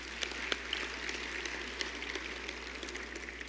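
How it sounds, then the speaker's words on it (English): Audience applause at a city State of the City event, a faint, steady spread of clapping sustained throughout, heard at a distance in a large room. "If you'd give them a round of applause, please."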